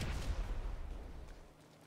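An explosive charge detonates on a car in GTA Online, a single deep booming blast that rumbles and fades over about two seconds.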